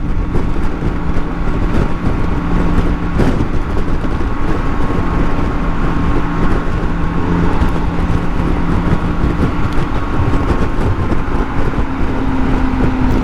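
BMW K1600 GT motorcycle riding at speed, a steady loud engine drone mixed with heavy wind rush that stays constant throughout, with no talking.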